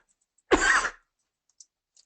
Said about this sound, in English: I always hate it when someone coughs into their microphone